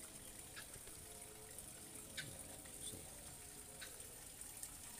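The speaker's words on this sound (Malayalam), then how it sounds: "ഇതാണ് ഈ ഭാഗത്തു നിന്നാണ് വെള്ളം വരുന്നത്, ഒരു പൊത്തിൻ്റെ ഉള്ളിൽ നിന്ന് നമുക്ക് കാണുന്നുണ്ട്." Water trickling and seeping from a small hole beside a forest stream, a soft continuous gurgle with faint splashes, quiet and close.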